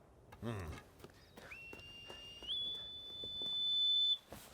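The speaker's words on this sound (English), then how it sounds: "It sounds like the goat herd's whistle" A long, steady high whistle holds one pitch for several seconds, stepping up once midway, over faint background rustle and clatter.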